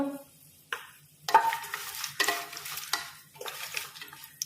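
Fennel seeds, shahjeera and cashews frying in oil in a pan for Chettinad chicken biryani, with intermittent bursts of stirring and light sizzling between quiet gaps, no talking.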